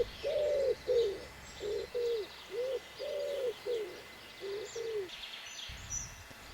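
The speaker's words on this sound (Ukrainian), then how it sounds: "Лісовий голуб припутень." A common wood pigeon coos in a forest, a rhythmic series of soft hooting phrases repeated in short groups, fairly close and clear over quiet woodland background.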